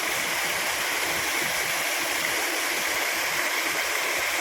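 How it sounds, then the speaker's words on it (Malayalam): A small waterfall at Anakkal near Malampuzha rushes in a steady, broadband roar of falling and splashing water, constant and close with no other sounds. "ചെറിയൊരു വെള്ളച്ചാട്ടം"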